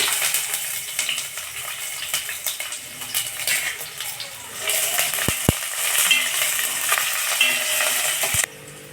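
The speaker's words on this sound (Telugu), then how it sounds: "ఇందులో మసాలాలన్నీ వేయించుకున్నాము చెక్క లవంగా మిరియాలు" Whole spices such as cinnamon, cloves and peppercorns fry with onions in a pan, a dense continuous sizzle with scattered metallic clinks of a utensil against the pan, no voices.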